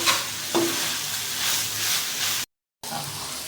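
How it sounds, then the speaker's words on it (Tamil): Egg fried rice stirred in a hot pan over high flame, a close crackling sizzle with scraping stir strokes, broken by a brief gap of silence near the end. "எக்ஸ் ஆட் பண்ணி கொஞ்சம் ஹை ஃப்ளேமில் வச்சு நல்லா கலந்து விடுங்க."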